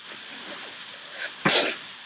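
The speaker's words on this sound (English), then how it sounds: "my allergies are acting up, so I have to like sniffle" A few short, sharp nasal sniffs from allergies close by, the last one loudest, with quiet pauses between them.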